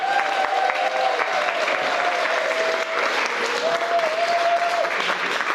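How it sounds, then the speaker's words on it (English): Wedding guests give the bride and groom a round of applause, a steady dense wash of clapping from a crowd that holds throughout, with a faint tonal hum or music underneath. "give the bride and the groom a big round of applause"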